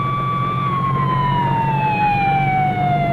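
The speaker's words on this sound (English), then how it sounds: "An ambulance swings away with its passenger." An ambulance siren wails in a radio drama as the vehicle swings away from a highway crash scene, a loud steady tone slowly falling in pitch as it recedes, with engine rumble beneath.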